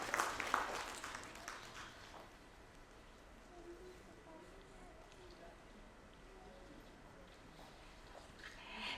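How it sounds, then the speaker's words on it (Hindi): Applause greets a book launch at an indoor ceremony, with a burst of clapping at the start that fades into a quiet room with soft murmurs and faint talk. "ज़ोरदार तालियों से इस किताब के विमोचन के लिए"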